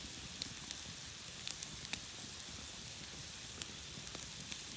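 An Angus tenderloin and potatoes fry over an outdoor campfire, giving a soft steady sizzle with scattered small pops and crackles, quiet and without voices.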